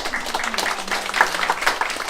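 An audience at a book launch for a memorial webtoon claps in a short, dense burst of applause, fairly loud and close throughout.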